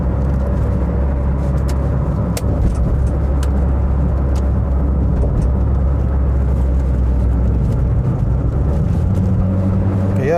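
Steady engine and road drone from inside a moving Citroën ZX Volcane with an automatic gearbox, a continuous low rumble with tyre noise and a few faint clicks and knocks, loud and unbroken throughout.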